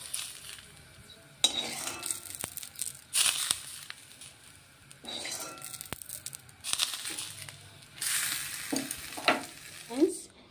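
Hot fried oil poured over fresh coriander leaves for a vegetarian mashed potato dish, giving bursts of crackling sizzle that flare and fade several times amid faint stirring and utensil scrapes, no talking.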